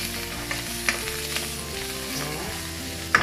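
Mushrooms fry in a hot pan in a UAE kitchen, giving a steady, close crackling sizzle with a couple of sharp clicks and a faint low tonal hum underneath.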